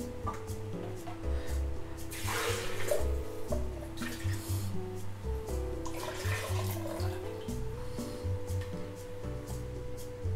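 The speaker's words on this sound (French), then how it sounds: "On va ajouter de l'eau." Water is poured into a pot of ground sauce for a squid ink calamari dish, giving a soft, steady trickle and splash close by with light dripping and no talk.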